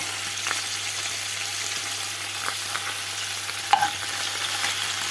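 Young lamb meat frying in a pan gives a steady, close sizzle that runs throughout, with a few soft stirring scrapes and one brief metallic clink near the end.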